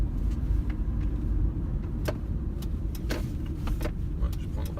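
A car is driven in town with no vibration; a steady low engine and road rumble carries on throughout from inside the cabin, broken by a few faint clicks and taps.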